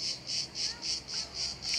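An evening cicada chorus under pine trees pulses in even, rhythmic bursts, roughly seven throbs in under two seconds, bright and steady at moderate distance with no talking.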